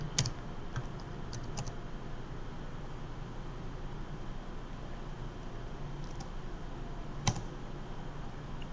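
Password typed on a computer keyboard while signing orders in a computerized physician order entry system: a few light, scattered key clicks over a steady background hiss, with no talking.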